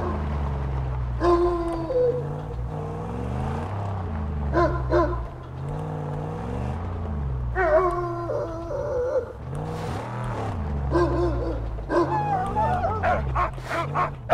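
A dog barks repeatedly in the Mad Max video game, sharp yips and woofs in irregular bursts over a constant low rumbling car engine that revs and surges throughout.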